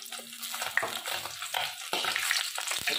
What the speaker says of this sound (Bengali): বাদ বাকি মাছগুলো আমি এইভাবেই ভেজে নেব।